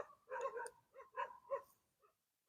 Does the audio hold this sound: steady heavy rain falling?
no